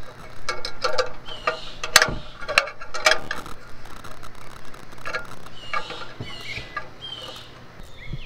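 A hand tool works at a stuck metal mailbox door hinge, giving irregular close clicks, scrapes and small creaks in quick clusters, louder in the first half and thinning toward the end.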